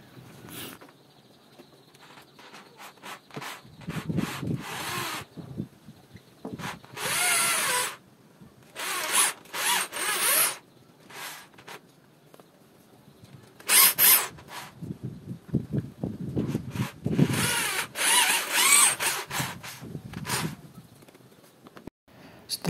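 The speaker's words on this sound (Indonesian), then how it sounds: "lalu kita bor menggunakan bor beton" A concrete drill whines in several loud bursts, boring into a house wall, with pauses and a voice talking between them.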